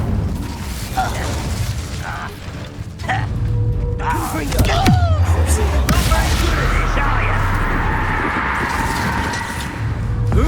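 An Incendio fire spell cast in Hogwarts Legacy, a whooshing magical burst and crackle over steady game music and ambience, with a character's voice speaking around it.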